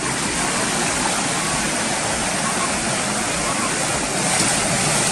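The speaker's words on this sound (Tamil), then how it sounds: "மிளகு வாசத்துடன் ஆர்ப்பரித்து கொட்டும் அருவியில் நீராடுவது" A roaring waterfall near Kodaikanal crashing onto rocks, a loud broadband rush of falling water that stays constant and close throughout, with no talk over it.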